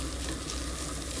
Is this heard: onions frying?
yes